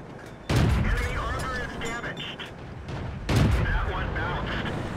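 A 5 cm tank gun on a VK 16.02 in World of Tanks fires two heavy, booming shots a few seconds apart, each trailing off into rumbling battle noise.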